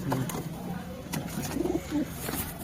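Madrasi pigeons cooing in low, throaty bursts, several soft coos repeating across the moment amid faint background rustle.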